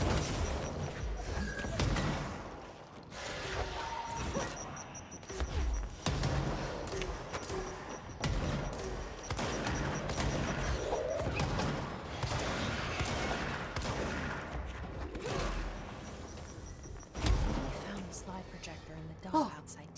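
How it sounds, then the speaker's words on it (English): Explosions and gunfire-like booms burst repeatedly in a video game, loud and dense across the stretch, with a heavy blast near the end and a voice talking over the action. "Everything exploding!"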